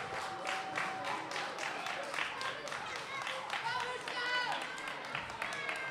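Wrestling crowd at a live match clapping in a rhythmic rally for a wrestler, sharp repeated claps with cheering beneath, heard under a commentator's talk.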